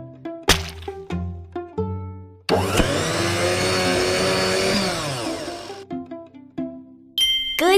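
In a kids' smoothie math game, a blender whirs loudly for about three seconds, framed by short plinking chime and drop sounds before and after.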